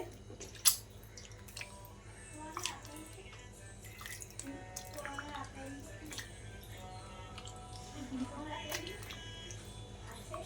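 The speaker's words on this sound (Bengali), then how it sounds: "ও ময়দাটাকে ধুয়ে নিতে হবে এইভাবে" Flour dough is washed by hand in water, with soft drips, splashes and sloshing close by, quiet and intermittent, and a brief sharper splash near the start.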